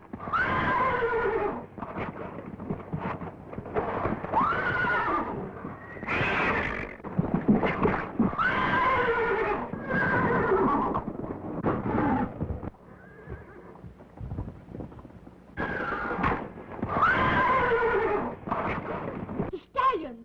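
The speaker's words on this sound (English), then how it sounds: "The stallions! They'll kill each other." Stallions fight, with repeated shrill neighs and whinnies, snorts and hoof scuffles, loud and close throughout in an old 1934 film soundtrack, with a short quieter stretch partway.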